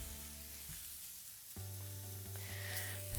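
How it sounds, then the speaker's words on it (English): Smashed hamburger patties sizzle on a hot cooking surface, a steady, close crackling fry that swells a little partway through, with no talking. "when you're cooking burgers like this"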